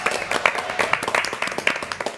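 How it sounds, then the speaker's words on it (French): Applause for six contestants at the close of a French TV game show, a short burst of scattered hand claps from a small audience, fairly faint, with some voices mixed in. "Applaudissements à tous les 6 d'ailleurs, merci beaucoup."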